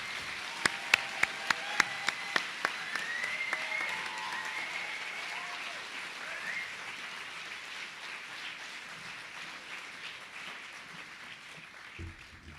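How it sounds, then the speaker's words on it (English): A graduation ceremony audience applauds a group of graduates: a few sharp individual claps ring out first, then dense, sustained clapping from the crowd that gradually thins and fades toward the end. "please, a huge round of applause for that group of graduates"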